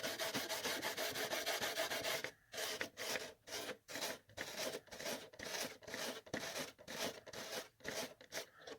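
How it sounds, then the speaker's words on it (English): A Scotch-Brite pad scrubs paint on an Axial Scorpion RC body, first in a continuous rasp, then in quick back-and-forth strokes with short gaps, close and crisp. "just keep sanding with your Scotch-Brite any place it's still got a shiny sheen"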